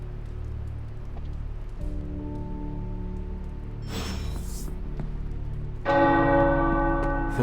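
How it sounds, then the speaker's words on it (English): Tower bells ring in Marvel's Midnight Suns, struck tones that sustain and ring out over a soft rain-like ambient bed, with a bright chime flourish and a louder bell strike toward the end. "The tower bells are ringing."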